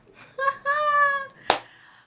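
A cat in Senegal gives one drawn-out, clear meow, close and fairly loud, followed by a sharp tap or click, with no talking over it.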